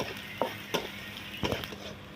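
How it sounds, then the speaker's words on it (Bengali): Garlic and dried red chillies frying in oil in a kadai give a steady, fairly quiet sizzle, broken by a few sharp clinks of stirring against the pan. "তা রসুনটা আমাদের ভাজা ভাজা হয়ে এসছে।"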